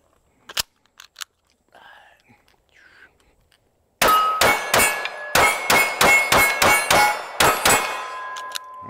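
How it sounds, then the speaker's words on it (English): A Kimber R7 Carbon Compact pistol fires about ten sharp, loud shots in quick succession, each crack ringing out with a short metallic tail, after a few quieter handling clicks. "Let's go ahead and load it up and do some shooting."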